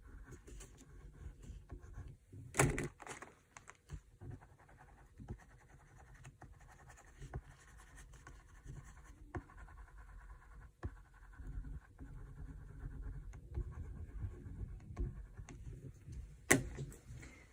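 Brown and orange crayons scrape across paper while leaves on a pumpkin drawing are colored and blended, a soft continuous scratching close by with short, rhythmic strokes and occasional louder taps.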